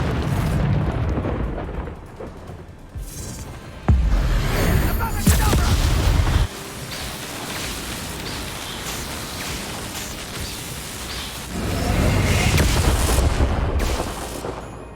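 Explosion in the video game Hogwarts Legacy, a few loud booming blasts with rumbling low end over a dense game soundscape, with bursts around the middle and near the end.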